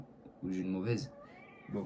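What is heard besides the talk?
cat meowing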